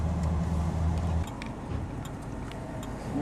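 Steady low rumble of a 1970 Ford Torino GT engine idling as it warms up, close and constant, the tone dropping slightly partway through.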